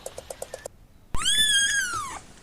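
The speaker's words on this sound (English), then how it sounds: "kitten" A kitten gives a single long, clear, rising-then-falling meow, loud and close, after a short silence and a run of soft, evenly spaced pulses.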